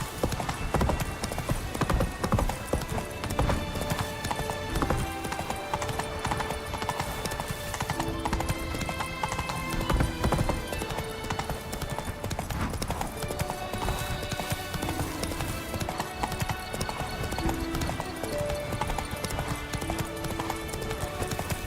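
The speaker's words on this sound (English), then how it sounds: "Run, Roach." Rhythmic horse hooves gallop steadily throughout in The Witcher 3: Blood and Wine, under a continuous bed of game music, with no talk.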